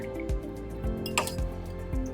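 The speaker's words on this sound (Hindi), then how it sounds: "आज इसको दोबारा मैं दूसरे पानी वॉश करती हूँ।" Basil seeds are rinsed in water, with soft periodic sloshes and drips, a few light clinks of a utensil against a container, close and fairly quiet.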